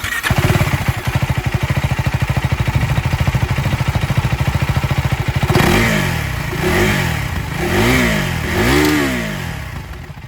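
A KTM Duke 390R with a liquid-cooled four-stroke single idles with a loud, rapid, steady thump, then revs up four times in rising and falling swells, close and with no talk over it.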